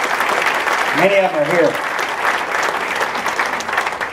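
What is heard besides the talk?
audience applause for city employees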